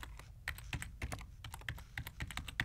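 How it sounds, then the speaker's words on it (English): A name being typed on a computer keyboard, a quick uneven run of close, crisp key clicks over a couple of seconds with no voices. "I can set the author to be me by simply typing my name here"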